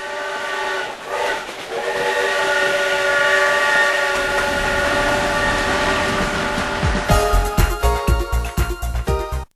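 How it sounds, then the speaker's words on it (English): A train travels through the rugged mountains of the Khyber Pass in Pakistan, with steady rumbling wheel noise and long sustained whistle or horn tones, then a rhythmic series of clacks near the end. "the Khyber Safari train runs through the rugged mountains of the Khyber Pass"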